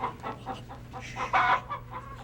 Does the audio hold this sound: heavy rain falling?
no